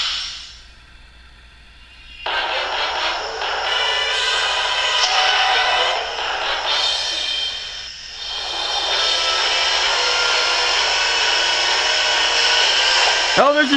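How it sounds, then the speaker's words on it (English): A vacuum cleaner sticker runs in Paper Mario Sticker Star, a loud steady roaring whoosh that starts suddenly after a quiet moment and holds for about eleven seconds with a brief dip in the middle. "you're going to want to stick down your vacuum cleaner"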